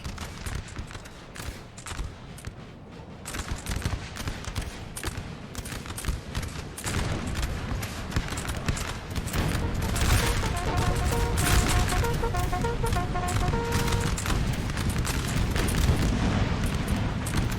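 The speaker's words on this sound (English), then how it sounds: "Now we're hearing the roll of muskets and the thunder of cannon." Musket volleys and cannon fire roar during a 4v4 battle of Quatre Bras in Napoleon: Total War, a dense, continuous crackle of gunfire with deep booms that grows louder and thicker partway through.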